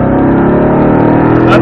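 A race car engine runs at full throttle on a track, a loud, steady drone close up for the whole stretch, with a brief higher burst near the end.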